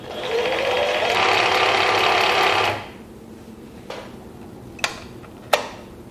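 Sailrite mini walking-foot sewing machine running in a steady, fast mechanical whir for nearly three seconds, then stopping. A few sharp clicks and knocks from handling the machine follow in the quiet.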